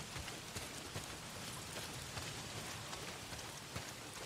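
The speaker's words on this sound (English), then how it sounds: "Well, not if it's pissing down rain." Steady rain pours down in the open-world game Days Gone, a continuous dense hiss of drops with occasional louder splashes, alone with no talk.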